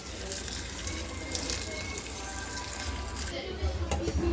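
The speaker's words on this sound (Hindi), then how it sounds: "अभी इसमें हम गर्म पानी डाल के भिगाने रखेंगे" Hot water pours steadily over toor dal lentils in a bowl to soak them, a continuous rushing splash that runs without pause for a few seconds.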